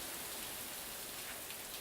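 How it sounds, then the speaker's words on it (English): Heavy rain pours steadily on a Texas property near a street, a dense, continuous hiss of drops with no break and no voices. "All right, look at that rain. We're getting a good rain."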